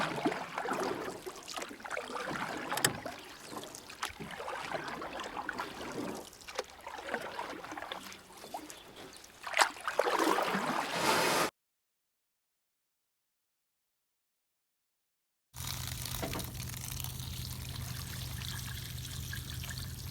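Water trickling and dribbling inside a leaking jet ski hull, a steady close splashy flow that cuts to silence partway through and then resumes with a low hum.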